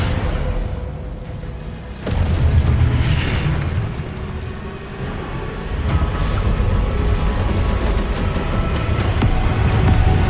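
A Descendo spell is cast in the Hogwarts Legacy video game amid a loud magical battle, with booming impacts, whooshes and rumbling blasts layered densely throughout, strongest bursts near the start and middle.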